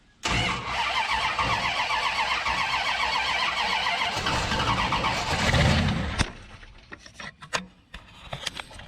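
A 1968 Hemi Dodge Charger cranks steadily for about six seconds, a loud, close, rhythmic starter churn that stops without firing, followed by scattered clicks and knocks.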